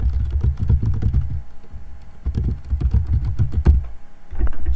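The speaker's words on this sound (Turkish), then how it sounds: "Hatta yapalım ben buraya kendi postamı yazayım" An email address is typed on a computer keyboard in rapid, close, clattering runs of keystrokes that pause briefly before resuming, with no talk over the typing.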